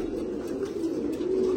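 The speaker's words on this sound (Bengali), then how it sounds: "একটা পায়রা দেখুন" A pigeon coos in a low, continuous rolling murmur, sounding close and steady throughout with no voices over it.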